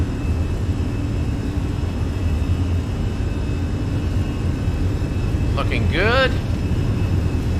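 Steady roar of Fenix A320 jet engines at takeoff power in Microsoft Flight Simulator at KLAX, a constant loud broadband rush throughout, with a short voice remark and brief tonal chirps near the end.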